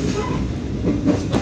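Prambanan Express passenger train running on the rails between Solo and Yogyakarta, a steady dense rumble of wheels and carriage noise with faint clacking, continuous and close throughout.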